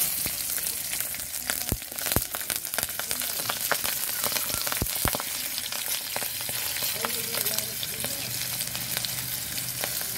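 Green chillies, whole cumin and a bay leaf frying in hot oil for a catfish curry: a dense, continuous sizzle close up, broken by sharp crackles and pops throughout, with no voices.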